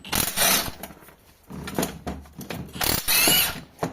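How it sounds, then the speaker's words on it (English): An impact wrench driving a coil spring compressor in loud bursts of rapid hammering, three main runs separated by short pauses, with mechanical clanks in between. "you shouldn't use the impact wrench on it, but I have to save my time"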